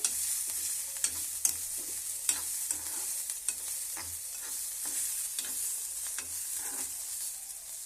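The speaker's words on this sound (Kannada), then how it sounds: "ಚೆನ್ನಾಗಿ ಫ್ರೈ ಆಗ್ತಿದೆ" Ingredients for a chutney fry in oil in a pan, a steady bright sizzle running throughout with regular stirring taps and scrapes of a utensil against the pan.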